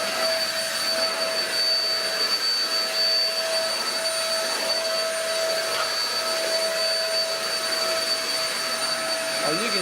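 A Shark EP600 bagless stick vacuum runs continuously indoors, a loud steady whine with a high tonal pitch and constant suction hiss throughout.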